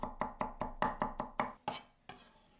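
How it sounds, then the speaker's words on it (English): Garlic cloves chopped with a knife on a board for a Chinese home meal: about nine crisp, evenly spaced knife strikes, close and clear, ending in a slightly louder chop and a scrape. "Chop 3 cloves of garlic."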